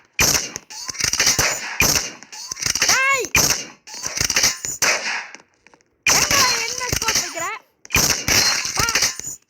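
Sharp gunshots and impact cracks from a Roblox first-person shooter, fired in quick clustered bursts separated by brief gaps, with electronic sweeping game tones in between.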